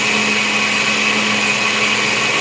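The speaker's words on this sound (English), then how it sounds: "But now I'm using the blender to blend it." A kitchen blender whirs steadily and loudly, blending sweet potato for a Jamaican pudding in one continuous, unbroken motor drone with no talk over it.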